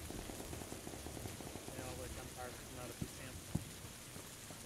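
Steady rain falls in a squad battle-royale video game amid fog, a constant wash of patter with a couple of sharp distant pops near the end, under quiet background voices.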